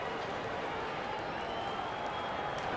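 Steady crowd applause and cheering fill a basketball arena during the halftime show of an NBA 2K23 game, Oklahoma City Thunder versus Los Angeles Clippers, a dense continuous roar with no gaps.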